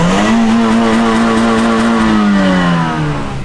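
A Honda car engine revs loud and close, holding a strong steady drone before the pitch winds down and eases off near the end.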